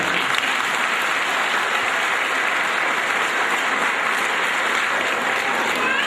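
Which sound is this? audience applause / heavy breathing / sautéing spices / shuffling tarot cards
audience applause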